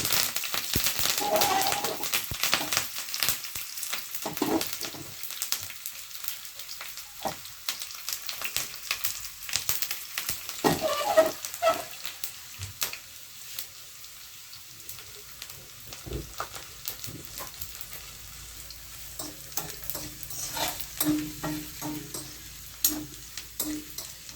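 Mustard seeds, sliced onion, green chilli and curry leaves sizzle in hot oil for a mango curry, with a soft steady frying hiss, crackles and intermittent spatula scrapes and clinks, up close.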